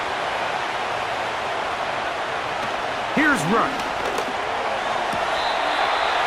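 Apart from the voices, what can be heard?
stadium crowd noise in video game Madden 25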